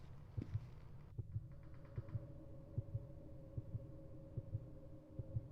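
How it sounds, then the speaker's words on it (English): Heartbeat in the horror dating game Sucker For Love: a steady, low double-thump pulse repeating roughly every 0.8 seconds over a quiet hum, faint and alone. "The heartbeat's fucking annoying."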